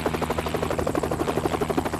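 Rescue helicopter engine in the video game Rettungshubschrauber 2013, a continuous rotor thump with rapid regular beats and a steady engine drone underneath, heard alone.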